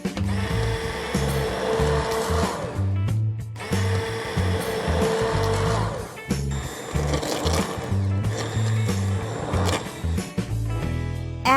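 Blender pureeing pumpkin orange soup flavoured with orange zest and ginger, a loud steady motor whir in long bursts with brief pauses between pulses, close and alone.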